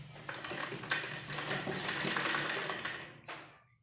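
Sewing machine running steadily as it stitches the inner lining fabric of a palazzo, a close, continuous mechanical whir that stops near the end.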